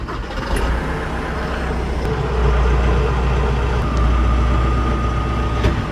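Deutz farm tractor engine idling steadily nearby, a constant low rumble with mechanical clatter and no change in pace, heard outdoors with no voices.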